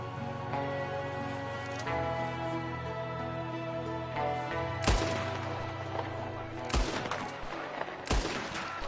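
Rapid gunfire from a Red Dead Redemption 2 shootout against O'Driscoll gang members, several sharp loud shots cracking out at irregular intervals over steady game music and ambience.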